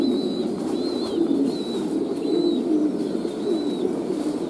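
French-breed pigeons in a pigeon loft with young birds coo in a steady, overlapping murmur, with thin high chirps recurring every second or so, close and moderately loud.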